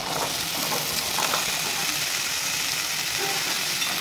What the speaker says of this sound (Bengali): এর মধ্যে কেটে রাখা আলুটা আমি দিয়ে একটু ভেজে নেব